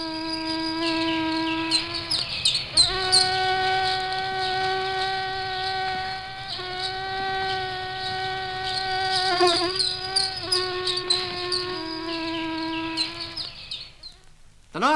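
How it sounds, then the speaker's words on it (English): A Culex gnat mosquito from the London area buzzes loudly and close in a continuous whining drone that shifts pitch slightly and stops abruptly near the end. "Another kind of mosquito is a gnat culex,"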